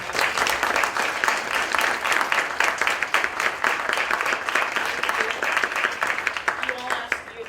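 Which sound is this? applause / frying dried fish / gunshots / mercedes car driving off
applause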